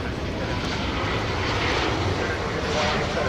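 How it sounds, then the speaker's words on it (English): An airliner's engines roar steadily and loudly at Dallas/Fort Worth Airport at night as it prepares to take off from runway 17 right, with a voice faintly under the constant noise. "So it will be taking off from runway 17 right."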